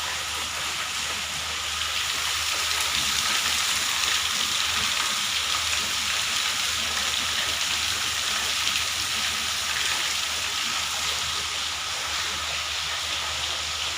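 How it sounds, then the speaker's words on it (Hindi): Rain falling steadily outdoors, a constant dense hiss with no breaks and no voices. "देखिए दोबारा बारिश ही हो रही है।"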